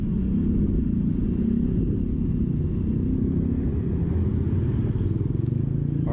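A Yamaha Aerox Connected sporty scooter climbs a steep uphill road, its engine a steady low rumbling drone held under load, loud and close throughout with no speech.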